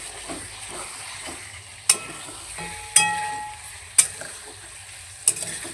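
Spiced meat fries slowly on a low flame with a soft, steady sizzle. Four sharp spatula knocks against the pan ring out at spaced intervals over the frying.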